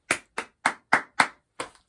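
Hands clap six times in an even rhythm, sharp and close, each clap short and dry, with a brief pause before the last one.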